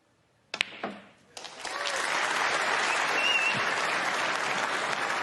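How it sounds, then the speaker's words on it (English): A snooker audience applauding a century break, a few sharp early claps before the applause swells into sustained, even clapping from a large crowd, fairly loud and steady. "They're clapping the century."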